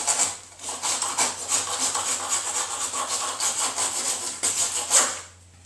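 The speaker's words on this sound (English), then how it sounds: "just rough it up because the epoxy is not going to soak into this" Roughing up the surface of a rocket body tube coupler by hand: loud, close abrasive rasping strokes repeat back and forth in a steady rhythm over a low hum, then stop abruptly at the end.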